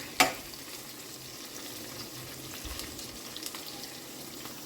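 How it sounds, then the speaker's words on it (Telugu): Onions frying in a pan with chillies, a soft, steady sizzle heard close and fairly quiet, opened by a single sharp clink. "ఆనియన్స్ ఫ్రై అవుతూ ఉంటాయి"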